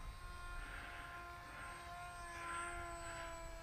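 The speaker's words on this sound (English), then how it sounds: "Probably does fly better, a little faster, but it's a cool looking little plane" A FinWing XBird RC plane flies overhead, its propeller giving a thin, steady buzzing whine at moderate distance that swells slightly as it passes.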